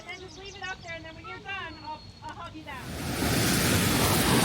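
Waves surge in Chicago as someone talks over the water, then a loud, steady wash of surf and wind takes over and holds for the last seconds.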